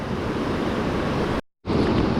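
Ocean surf rushes and roars on the north shore while someone fishes, a loud, steady broadband wash of waves and wind that cuts out abruptly for a moment, then resumes.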